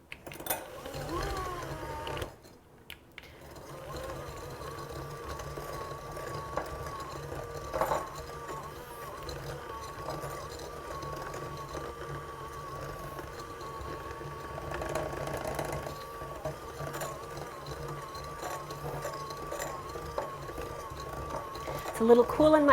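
A cordless, rechargeable electric hand beater churns slightly cool, firm butter in a home kitchen, a steady motor whir with faint bowl clatter running under continuous talk throughout.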